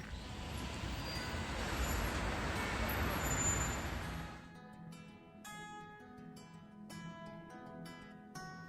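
A city bus and road traffic rush past loudly for about four seconds, then fade to a quieter street background.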